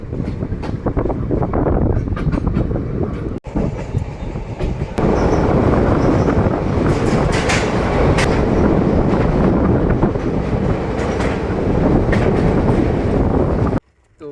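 A passenger train heading toward Kumarghat station rumbles loudly and continuously on the rails from onboard, with steady wheel noise and rushing wind that briefly drops and then surges back.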